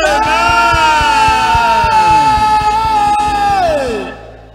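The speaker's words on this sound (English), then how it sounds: "If you are shouting that amen" Congregation at a prophetic church service loudly shouting amen together, a sustained massed yell of many voices with a rhythmic low pulse beneath, fading out at the end.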